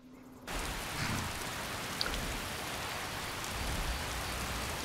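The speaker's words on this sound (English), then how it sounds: "It's raining." Rain in the video game Skyrim, a steady, moderately loud hiss of falling rain that starts after a brief quieter moment and continues evenly with no talk.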